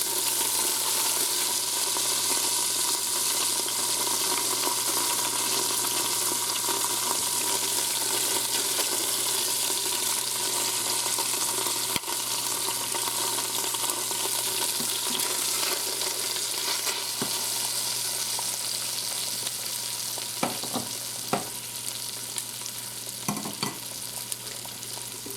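Pieces of steak sear in oil in an Instant Pot, a constant loud frying sizzle with a steady hiss, and near the end a few sharp taps and scrapes as the pieces are moved.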